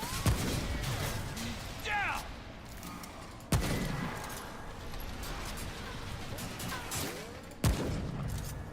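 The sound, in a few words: enemy gunfire in the video game Remnant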